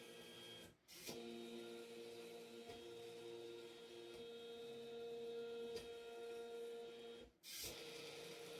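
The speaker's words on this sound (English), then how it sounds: "As you can see, the machine draws our design of the star and then the square." An Arduino-driven CNC handwriting machine draws a star and then a square, its stepper motors giving a quiet steady whirring hum with tonal whines, broken by a few brief pauses and clicks as the pen shifts.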